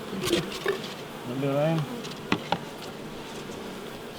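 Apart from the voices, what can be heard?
honey bees buzzing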